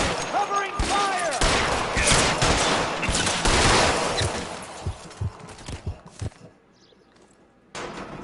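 Gunfire in an L.A. Noire shootout: loud, dense volleys of shots crackle through the first half, thinning to scattered single reports and then near silence, with a burst returning at the end.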